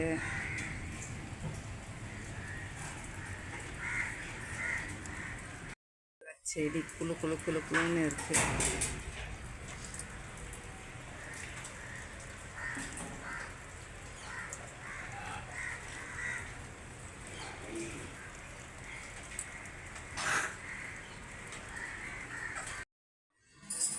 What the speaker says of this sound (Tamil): காக்கா மட்டும் தனியாக உட்காந்துருக்கு பிஸ்கெட் சாப்பிட்டுக்கிட்டு